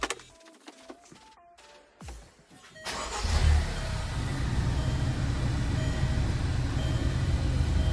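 A 2014 Range Rover Evoque engine cranks with a few clicks and whirs, catches after about three seconds, then settles into a loud, steady idle heard up close.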